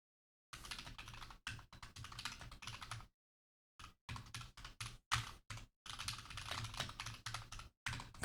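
Steady bursts of computer keyboard typing while learning C++, close and fairly loud, with short pauses between runs of keystrokes and no voices.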